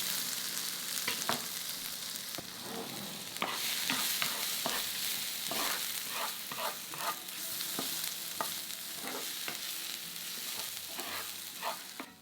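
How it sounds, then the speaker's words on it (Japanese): Ginger stir-frying in cooking oil in a frying pan over medium heat: a soft continuous sizzle broken by frequent light scrapes and taps of a spatula, fairly quiet and without any voices. "生姜を加えて炒めます"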